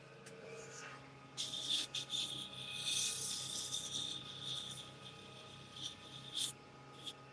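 Rough-grit sandpaper rubbing across wood in quiet, scratchy strokes, with a few firmer passes, all at low volume and mostly unbroken by other sounds.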